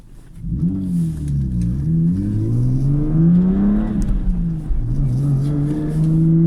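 A car engine fitted with a lightweight flywheel in place of a dual-mass flywheel revs up repeatedly, its pitch climbing and dipping through several throttle blips, loud and close with no talking.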